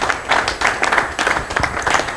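Audience applause at a comedy event in Lubumbashi, a dense spell of clapping with rhythmic swells, fairly loud and close throughout.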